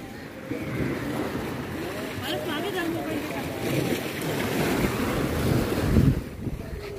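Sea waves breaking on the beach at Rameswaram, a steady loud rush of surf with heavy wind buffeting the microphone and people talking faintly in the background.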